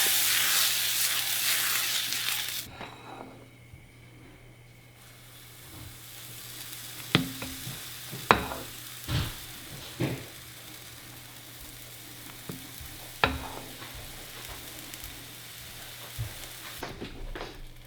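Pancakes cook in a buttered pan, opening with a loud hissing sizzle that quickly drops to a faint low fry, punctuated by several sharp spatula taps and knocks.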